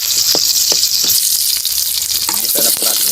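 Goat meat sautéing with garlic and onion in a pan for spicy kaldereta, a steady loud sizzle and hiss of frying throughout, with a few stirring scrapes and clacks near the end.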